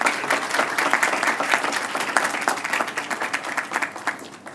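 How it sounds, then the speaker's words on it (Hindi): An audience at a Bhagavad Gita discourse breaks into applause, a dense, even patter of many hands clapping together at moderate loudness for several seconds. "तालियां तो बजा ली तुमने"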